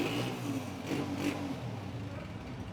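A 2018 Honda 125 motorcycle engine idles steadily and close by, a continuous even drone with a slight rise in revs near the middle, running alone without talk.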